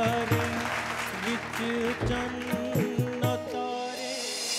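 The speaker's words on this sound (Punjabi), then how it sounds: "ਇੱਕ ਵਾਰ ਤਾੜੀਆਂ ਜੀ ਮੁੰਡੇ ਲਈ।" A studio audience applauds a young contestant on a Punjabi singing competition show. The clapping runs under loud music with sustained tones and changing notes, filling the whole stretch.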